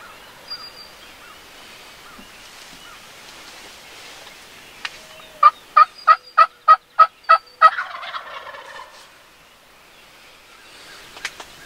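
Wild turkeys gobble above a hunting blind on a Pennsylvania spring hunt. A quiet woodland hush gives way to one rapid gobble of about eight sharp pulses midway, then fades back to calm with a faint click near the end.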